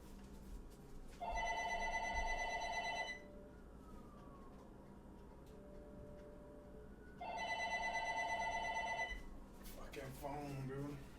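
A phone rings in two bursts of trilling electronic tone, each about two seconds long, separated by a pause, with someone talking quietly underneath.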